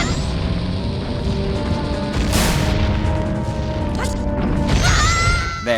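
A bomb blast destroys a Beamos in the Majora's Mask video game, a loud crashing boom about midway through, with a second burst of impact noise near the end over a steady game soundtrack.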